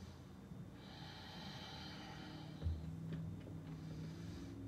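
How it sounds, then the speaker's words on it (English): Slow, deep breathing during a yoga meditation class, soft airy inhales and exhales close to the ear, with one brief, sharper nasal snort in the middle. "deep breaths"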